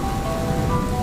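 Rain falls in a dense, steady hiss with a low rumble beneath it, even and unbroken throughout.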